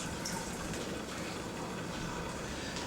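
Water sloshes and rinses inside the rubber bladder of a Q-PACK pressure tank, a steady, close, dense wash of splashing with no pauses and no talking.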